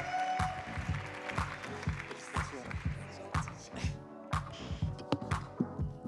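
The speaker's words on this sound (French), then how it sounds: "on peut les applaudir tous les deux" An audience at the Tech For Future 2024 award ceremony claps in scattered, uneven bursts, fairly faint, while a presenter keeps talking over it.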